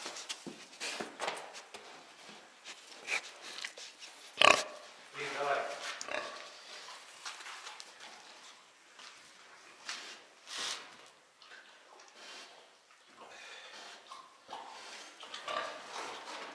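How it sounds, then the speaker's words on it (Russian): Sow and piglets grunting on a pig farm, with scattered snorts and shuffling under someone talking close by throughout. "Эта свиноматка, вот эта, агрессивненькая."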